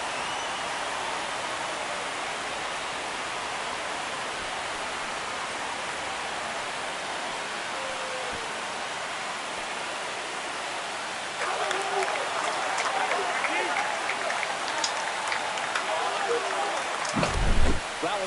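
A stadium crowd roars after a home run in MLB The Show 25 during an ALCS postseason game with the Cleveland Guardians, a steady broad wash of cheering that swells louder near the end, with a commentator talking over it.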